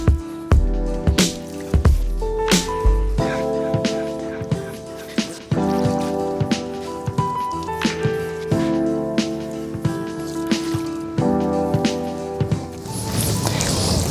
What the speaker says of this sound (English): I'm gonna squeeze out the dirty water right there, dunk it back in my wash bucket.